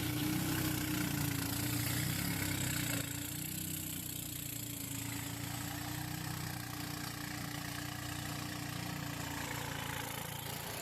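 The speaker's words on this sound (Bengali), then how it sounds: "আমাদের বোটটা আবারও ঝর্ণার উদ্দেশ্যে রওনা দিল।" A motor boat engine runs steadily on the way to a waterfall in Bandarban, a continuous mid-pitched drone with a faint hum above it, near and even throughout.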